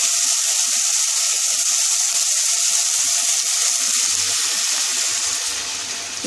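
Water poured into a hot pan of frying okra, giving a loud, steady, continuous sizzle and hiss that softens slightly toward the end.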